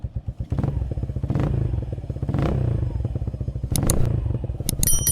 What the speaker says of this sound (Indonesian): kita coba geber lagi ya Om Bro.